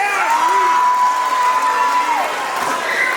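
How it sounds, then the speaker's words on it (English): Children and staff at a Women's History Month school assembly cheer and whoop in a loud, echoing gym, with a sustained whistle-like shout riding over scattered clapping and crowd noise. "Let's give them a round of applause."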